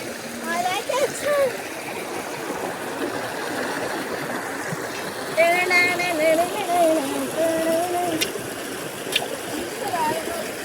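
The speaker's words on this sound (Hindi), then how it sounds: "फाइनली हम नदी में। तो आप देख सकते हैं कितनी तेज आवाज आ रही है इसकी" A river rushes in a steady, broadband wash of flowing water, loud and continuous throughout. Someone talks over it.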